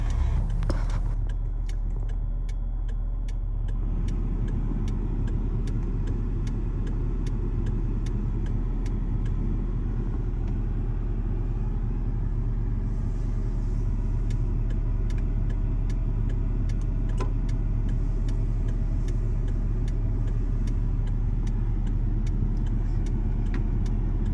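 A Honda CR-V engine idling smoothly at close range, a steady low hum with fine regular ticking running throughout and no talking.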